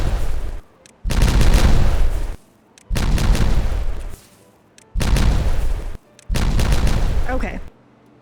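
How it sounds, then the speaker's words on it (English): Four loud, broad booms from explosions in the video game Timberborn, each lasting about a second and separated by short near-silent gaps. "Let's explode all of these."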